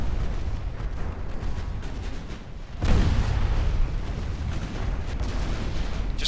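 Naval 9-inch cruiser guns fire in the Ultimate Admiral Dreadnoughts game, a heavy booming salvo rolling on with a sharp louder blast near the middle and continuing rumbling gunfire after.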